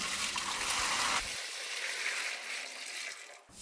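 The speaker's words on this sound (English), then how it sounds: "Throw away the water." Water from a pot of briefly boiled meat and bones is poured out, a splashing gush that stops abruptly and gives way to a thinner trickling flow, close and fairly quiet.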